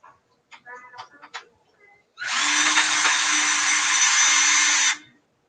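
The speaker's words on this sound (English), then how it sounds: "Let me drill into the 10 first." Power drill boring into lumber while a wooden sukkah is being built, a steady loud whine running about three seconds after a few short knocks and brief talk.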